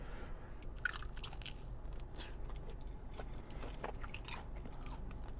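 Biting and chewing crunchy, spicy hot buffalo wings from a neighbourhood takeout spot in Newark: faint, close crunches and wet chewing at an irregular pace over a low room hum.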